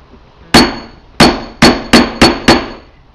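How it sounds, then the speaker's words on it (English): Six sharp metallic taps, close and loud, spaced irregularly with short ringing tails, as a punch is hammered through a plastic plug. "tap it until it's gone all the way through"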